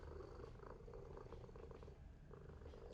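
A cat purring steadily and close, a low continuous rumbling throb with no talk over it.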